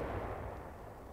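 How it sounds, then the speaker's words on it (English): A howitzer firing rounds in the Korean War, heard as a single brief, dull, low boom with a rumbling tail, fairly faint and distant on an old recording. "a lonely howitzer somewhere in Korea lobbing out a few rounds to take care of an enemy"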